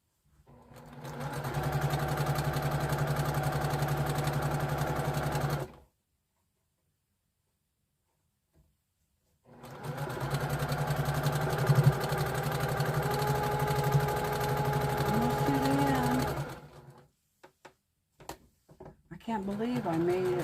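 A domestic sewing machine running in steady bursts while stitching jelly roll quilt strips: a loud, close, continuous motor hum with rapid needle chatter, stopping for a few seconds of silence before resuming, with brief spoken moments near the end.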